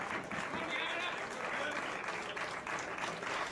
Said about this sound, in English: Very appreciative, very respectful crowd here at Fat Music Hall in Providence, Rhode Island today.